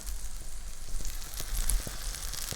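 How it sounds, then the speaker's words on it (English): A burger patty sizzles steadily in a hot pan, a close, continuous crackling hiss with a few sharper pops, and no voices. "Oh yeah, look at that sizzle."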